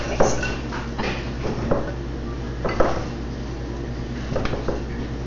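Macaron batter being mixed in a bowl, a spatula or spoon scraping and clinking against the bowl in irregular knocks and scrapes, several sharper taps standing out from a soft continuous stirring, close by with no talking.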